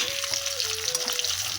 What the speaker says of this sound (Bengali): মা চিলি চিকেনের জন্য মাংসগুলো ভাজা শুরু করেছে